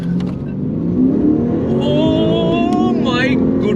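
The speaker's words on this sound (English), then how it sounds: "let's turn off the traction and let's launch the car" A Lexus RC F with a 5.0-litre V8 and rear-wheel drive launches hard with traction control off, its engine droning loud and close and climbing in pitch as it pulls through the gears, with tire or wind noise underneath.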